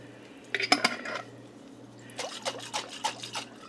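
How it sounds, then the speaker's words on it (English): A glass jar clinks against a kitchen counter a few times, then a small splash of water swishes and sloshes inside it in short bursts, fairly close and without talk. "Rinse out the jar."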